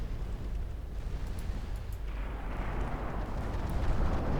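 A torpedo strike explodes against a warship in Ultimate Admiral: Dreadnoughts naval combat, a deep, sustained roaring blast that swells and thickens past the halfway point, with faint crackles over the low rumble.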